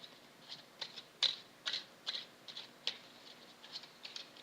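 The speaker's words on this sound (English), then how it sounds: "I'm just going to shuffle the cards and then select a card at random" Cosmic Tarot cards being shuffled by hand, a quiet series of soft crisp riffling and flicking bursts spaced irregularly over a few seconds, with no talking.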